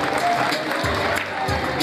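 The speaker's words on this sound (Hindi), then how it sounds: "तालियां जरूर बजाएं।" Applause from an audience at a college annual function, a steady, dense patter of clapping that fills the hall, with some voices mixed in.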